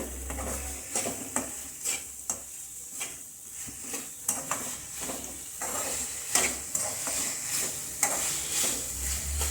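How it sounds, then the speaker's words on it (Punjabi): Macaroni being stirred and roasted with masala in a pan: repeated scraping and clinking strokes of a spoon against metal over a soft sizzle, in an irregular rhythm with no talk. "2 ਮਿੰਟ ਵਾਸਤੇ ਮਕਰੋਨੀ ਪਾ ਕੇ ਆਪਾਂ ਭੁੰਨਾਂਗੇ ਮਕਰੋਨੀ ਨੂੰ"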